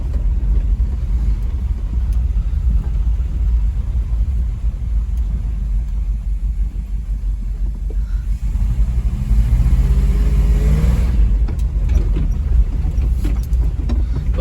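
An International Scout 2, parked for 20 years, drives with a low, steady engine rumble and road noise. The engine revs up slightly partway through, and no one speaks.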